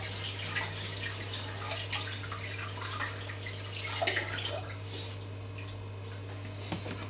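Tap water runs over butternut squash being rinsed in a kitchen sink, a steady splashing stream with a faint low hum underneath and no talking.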